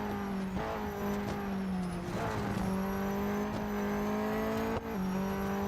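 A race car engine in the Real Racing 3 video game screams at a steady high pitch through the final lap, the car badly smashed up, with brief gear-shift dips and no talking.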